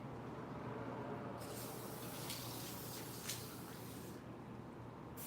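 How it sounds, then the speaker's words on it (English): Spray adhesive hisses from an aerosol can in one sustained burst of about three seconds, close but fairly soft, starting and stopping cleanly against a quiet room. "I need to spray adhesive this to get the glitter to stick"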